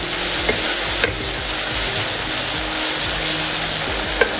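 Ginger garlic paste is stirred into onions frying over lowered heat for Awadhi mutton korma, a loud continuous sizzle with occasional scraping strokes of the spoon, no talk.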